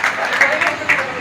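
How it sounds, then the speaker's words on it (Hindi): Loud clapping from a mushaira audience greeting a poet, with a few sharper bursts standing out over a steady wash of hands and murmuring crowd. "जोरदार तालियों से उनका इस्तकबाल करते हैं।"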